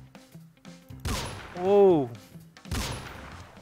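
Shotgun blasts in a gangster war game, two sharp loud shots roughly two seconds apart, with a man's excited exclamation rising between them.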